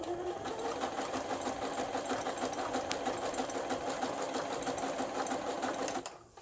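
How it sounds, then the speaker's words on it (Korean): An NCC smart computerized home sewing machine, just repaired, stitches steadily at an even speed with a continuous whirring, rapid needle chatter, then stops abruptly near the end; no talking. "NCC 스마트 재봉틀 예, 수리를 마치고 박음질하는 예, 영상이 되겠습니다."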